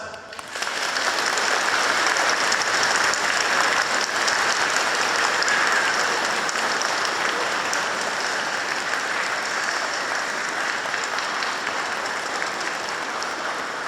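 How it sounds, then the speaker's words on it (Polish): Warm applause rises from an outdoor gathering of children's rosary circles in Mordarka as thanks to the parish priest, a dense sustained clapping from a large crowd that starts abruptly and carries on evenly for over ten seconds. "naszą wdzięczność księże proboszczu wyrażamy przez gorące oklaski"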